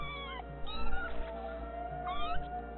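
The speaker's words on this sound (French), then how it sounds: "Ils arrêtent pas de miauler depuis tout à l'heure." Several cats meowing insistently, long rising and falling cries overlapping one another in quick succession, close and fairly loud.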